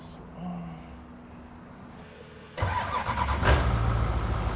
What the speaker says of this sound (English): We'll just fire it up, make sure the trans works.